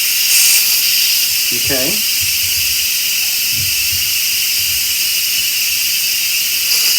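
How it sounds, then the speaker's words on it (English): An Instant Pot vents steam through its valve during a quick pressure release, a loud, steady hiss that runs the whole time while a person talks briefly beneath it. "it's releasing the pressure, okay, which is what they call a fast release"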